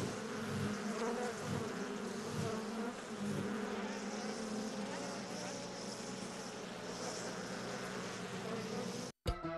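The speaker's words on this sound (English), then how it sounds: "Bees are economically the most important insects in the world." Bees buzz in a steady, dense drone with occasional louder passes of individual insects near the microphone, continuing at moderate volume throughout and cut off abruptly near the end.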